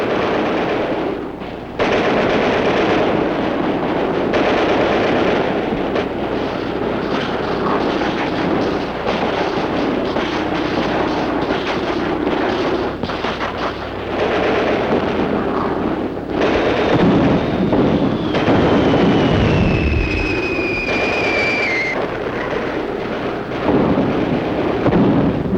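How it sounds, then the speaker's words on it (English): Heavy Soviet artillery fire on the World War II Russian front booms in an old archival war film, as loud rolling blasts and rumbling barrages that run on with no pause. "Under cover of Russia's heavy artillery,"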